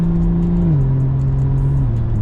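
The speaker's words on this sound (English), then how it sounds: "You don't hear nothing, look. Nothing, but you hear that thing downshift though." BMW M240i being driven, its engine droning steadily inside the cabin as the pitch steps down twice with transmission downshifts, loud and continuous with no talking.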